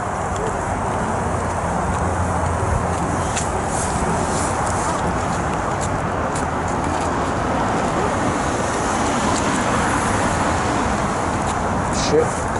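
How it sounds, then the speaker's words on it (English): A car approaches along a narrow road, heard as a steady, fairly loud wash of tire and engine noise over continuous outdoor ambience, with a brief bump near the end. "car coming"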